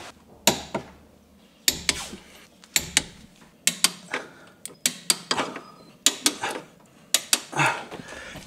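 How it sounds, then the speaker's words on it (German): A torque wrench tightens the brake bolts on a Golf 2 GT Special in a workshop, giving a series of sharp clicks and ratcheting snaps in irregular bursts, close and fairly loud with quiet gaps between them. "Und jetzt nehmen wir uns den Drehmomentschlüssel zur Hand und werden alle Schrauben mit dem richtigen Drehmoment festziehen."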